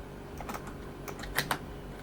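Computer keyboard keys tapped in a light, irregular run of clicks, with a few sharper strokes near the end, close and fairly quiet against a faint background hum.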